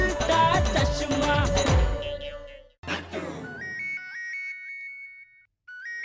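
A phone rings on a TV comedy set: a loud electronic ringtone melody plays, breaks off, then comes back as repeated short synthetic beeps with a brief gap between them.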